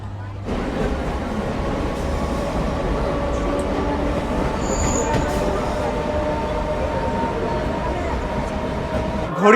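A Namkhana local train pulls out of Sealdah station in Kolkata, producing a steady, loud rumble of rolling wagons and rail noise that fills the whole stretch without a break.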